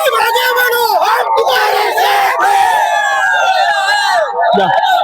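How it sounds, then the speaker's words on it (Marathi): A loud crowd at a local election victory celebration in Kudal cheers and shouts continuously as winners are garlanded and showered with gulal, dense overlapping voices filling the scene. "जोरदार जल्लोष सुरू आहे"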